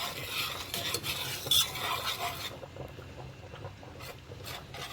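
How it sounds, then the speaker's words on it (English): Cheese being stirred into Alfredo sauce in a pan makes a steady scraping, stirring swish over a faint sizzle, close and continuous with no talking. "Now, just keep mixing it until it's all combined."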